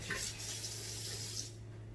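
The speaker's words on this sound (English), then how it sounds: "You're going to turn on a low stream of water" A faucet runs a low, steady stream of water into a sink during chicken tikka masala prep, a constant close rush with a faint hum beneath it and no talking.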